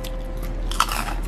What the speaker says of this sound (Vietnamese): Nhai rớp rớp luôn.